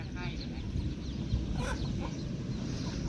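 Chickens cluck steadily near a duck pen in a rural yard, a busy layer of short clucks and squawks with a voice murmuring in the background.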